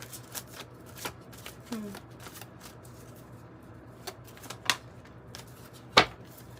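Tarot-style cards being shuffled by hand: a quiet run of soft, papery riffles and taps, with a couple of sharper slaps near the end, over a low steady hum.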